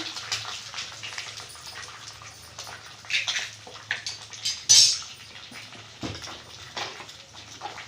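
Two eggs go into a hot oiled pan with light clinks and taps of shell and metal, a few sharper knocks and soft wet splashes, close and fairly quiet.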